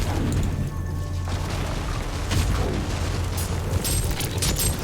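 Explosions go off in the video game Warhammer 40,000: Inquisitor, a dense, sustained rumbling roar with several sharp crashes and blasts layered over a constant low battle drone.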